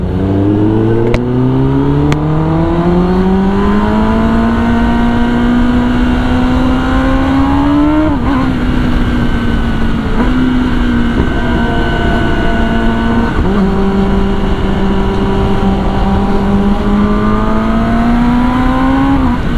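A Kawasaki ZX-10R 1000 cc motorcycle engine screams loudly up through the revs, climbing in pitch through several gear changes with short dips between them, a close, sustained high-speed howl.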